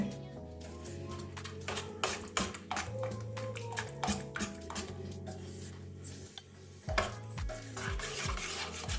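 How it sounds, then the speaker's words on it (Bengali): A spoon beating bottle gourd pitha batter in a bowl gives quick, repeated tapping and scraping strokes in uneven bursts, fairly quiet, over steady background music. "এবারে এই যে চামচ দিয়ে ভালো করে আবার ফেটিয়ে নিলাম"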